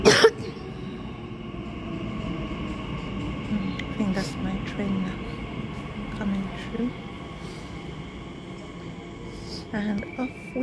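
A London Underground train pulls out of the station with a low rolling rumble and some squealing, heard from the platform amid murmured voices, coughs and station bustle.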